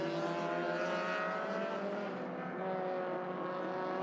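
Several MTC touring race cars run nose to tail in a Malaysia Championship Series race, with a dense, steady layered engine roar of multiple revving motors held close together and loud throughout, without talk.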